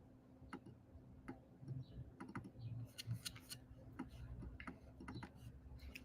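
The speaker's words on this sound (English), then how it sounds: "My keyboard is acting really weird today." Typing on a computer keyboard that is misbehaving, irregular bursts of sharp close clicks and key taps at varied pace over a low steady hum, with no talking.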